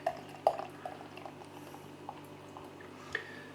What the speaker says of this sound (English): Okay, so the beer is pouring out.